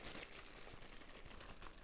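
A plastic bag of accessories for an AeroCool Mini Frost PC case crinkles continuously as it is handled, faint but steady, with no talk over it.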